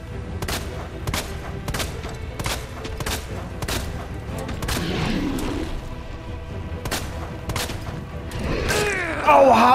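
Gunshots in the Resident Evil 2 survival-horror game, a string of sharp evenly spaced shots up close over a low rumbling ambience, then a creature-like growl and more clatter near the end, with a voice talking.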